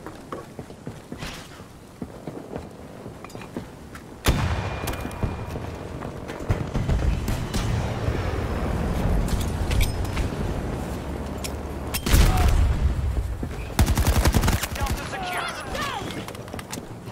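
Gunfire in the game Battlefield 2042, dense rattling bursts of automatic fire and explosions that surge loudly and then fade, with a player talking over the din.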